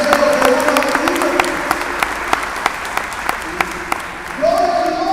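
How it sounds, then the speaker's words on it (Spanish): A church congregation applauds in a sustained round of crowd clapping, with a voice or tone at the start and again as it ends. "Den un aplauso al Señor porque al final eso es lo que uno ha vivido"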